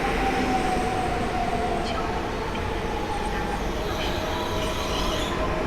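A Koleje Mazowieckie airport train from Modlin to Warsaw Chopin Airport rolls loudly and steadily through Warszawa Zachodnia station at close range, its continuous rumble carrying wheel squeal over the rails.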